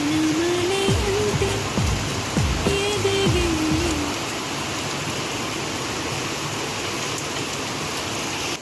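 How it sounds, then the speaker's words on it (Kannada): The season's first rain falling steadily, a dense close hiss of drops; a few low swooping tones and a faint whine sit under it early on before the rain carries on alone. "ಮೊದಲ ಮಳೆ"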